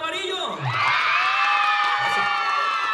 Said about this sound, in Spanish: ¡Aplausos para la de amarillo!